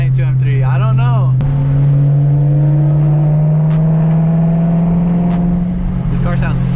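BMW E92 M3 engine with straight pipes, a loud steady droning note that slowly rises in pitch during a cruise, with a sharp burst of revving at the start and a short voice near the end.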